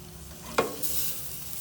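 Steak on a grill gives a sharp hit of contact, then a steady, bright sizzle that carries on close and fairly loud, with no voices.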